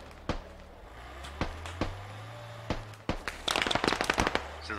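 Gunshots in the military shooter game Squad, a few sharp single cracks spread out, then a rapid burst of fire near the end, over a low engine hum.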